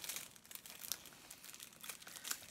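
Plastic wrap is peeled and crinkled off a Fantastic Beasts Blu-ray case in quick, irregular bursts of close, soft crackling.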